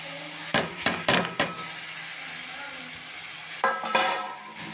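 Squid with tomato and curry leaves sautés in a pan, with a soft background sizzle broken by a quick run of sharp spatula clanks on the pan, a pause, then two more knocks.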